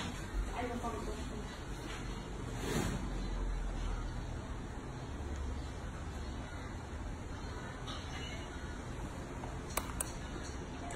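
A hair dryer blows with a continuous airy whoosh, close and steady, while a faint voice occasionally comes through beneath it.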